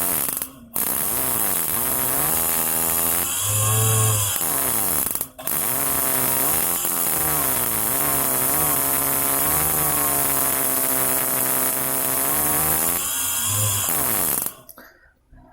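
Motorcycle engine fitted with a BRT IMAX CDI, run without a battery, revved up and down repeatedly, a loud close buzzing roar that rises and falls in pitch with brief cutoffs and bursts against the rev limiter.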